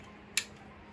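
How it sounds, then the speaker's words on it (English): A dog harness buckle clips shut under the dog's legs on an Arcadia Trail harness, giving a single quick, sharp click against a quiet background. "So it just goes under his legs like this and it clips."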